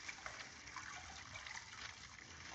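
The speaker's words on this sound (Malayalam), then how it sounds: "വെള്ളം വീഴുന്ന പോലെയുള്ള ഓഫ് സ്ക്രീൻ സൗണ്ട് ഉപയോഗിച്ച്" Steady falling water in a 1956 prison film, a soft continuous trickle and patter heard off-screen, faint and unbroken throughout.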